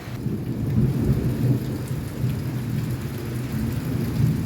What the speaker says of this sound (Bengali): মেঘ ডাকছে আর বজ্র ডাকছে কি জোরে জোরে, ভয়ও লাগে।